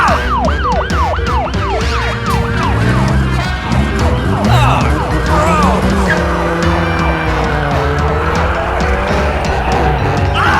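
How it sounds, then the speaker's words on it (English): A fast Lamborghini races in a high-speed police chase with a wailing siren sweeping up and down, tires squealing and engine roaring loudly throughout, with no talk. "It's really fast car."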